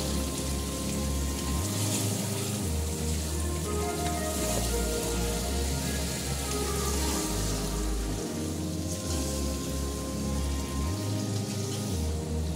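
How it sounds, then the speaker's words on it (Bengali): Chicken is sautéed in a pan with a continuous loud sizzle, overlaid with low rhythmic thuds and scraping as it is stirred. "চিকেনটা ভালো করে এর সঙ্গে কষিয়ে নেব একবার।"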